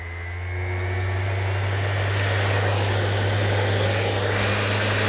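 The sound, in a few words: fine-particle vacuum cleaner starting automatically with power tool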